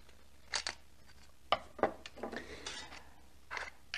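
Scissors cut an aluminium juice can in half while building an alcohol stove, giving several sharp, close metallic snips and crunches spaced irregularly over a few seconds.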